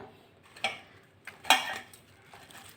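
Leftover cooked rice dough is mixed with a little oil for murukku, giving three short, scraping knocks of hand or utensil against a bowl spaced across a quiet background.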